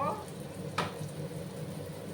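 Coriander powder frying in a pan on a low flame for moong dal tarka, giving a soft steady sizzle with a brief brighter crackle near the start.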